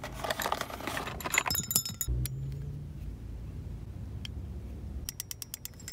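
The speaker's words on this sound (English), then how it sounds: "the clone has some tap" A clone balisong butterfly knife being flipped, with a rapid burst of metallic clicks and rattling tap from the loose handles, then a pause, a lone click, and another quick run of clacks.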